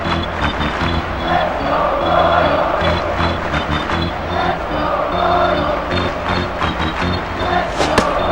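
Baseball stadium crowd noise in the video game MLB 2K5, with a steady roar of fans holding throughout the stretch and a few sharper bursts and claps rising above it.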